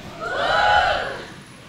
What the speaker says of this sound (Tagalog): Sigawan mga babae.